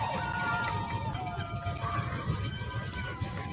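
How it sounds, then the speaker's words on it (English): Crowd at a Friday night high school homecoming football game, Oak Hill at Buckhannon-Upshur, rising in cheers and whistles, moderately distant, with horn-like tones and shouting mixed into the din. "Crowd gets into it."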